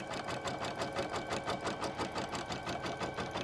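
An embroidery machine stitches a crazy quilt block, a fast, even mechanical rattle of needle strokes that repeats at a steady rhythm, close and continuous with no voices.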